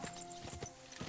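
A horse's hooves clip-clop in a medieval video game world, faint and distant, with a handful of irregular hoof strikes over a quiet ambient background.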